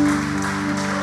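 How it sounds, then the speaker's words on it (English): Church congregation applauding after a sermon, a dense steady wash of clapping with sustained organ or keyboard tones underneath, fairly loud throughout. "let's give a round of applause to Natasha for the word that she brought"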